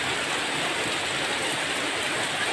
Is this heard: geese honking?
no